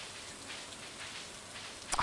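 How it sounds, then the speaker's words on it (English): Soft, steady hiss of rainfall in the farming game Stardew Valley, faint and even, with a small click right at the end. "I love the sound of the rain."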